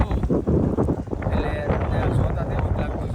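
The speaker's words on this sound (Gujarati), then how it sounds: "પવન છે બહુ અવાજમાં થોડો છે" Strong wind buffets the microphone in loud, rumbling gusts at a riverside garden, with a voice faintly audible underneath.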